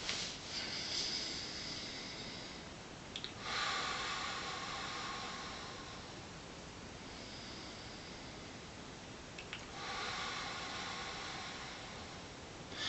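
Two slow, deep breaths, each a long airy inhale-exhale rush of breath close to the microphone, separated by a quiet pause.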